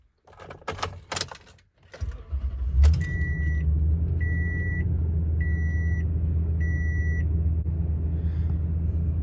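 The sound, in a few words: 9-year-old truck engine starting up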